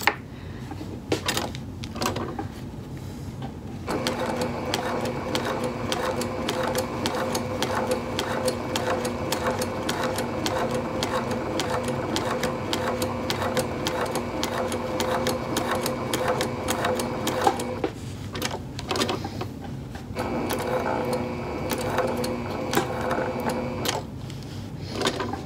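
A sewing machine stitches dark cork for a handbag, its needle running in a fast, steady mechanical chatter for long stretches, with brief pauses near the start and one short stop before it resumes, close and clear.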